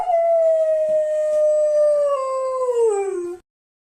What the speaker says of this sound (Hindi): गलियों में कुत्तों की रोने की आवाज आ रही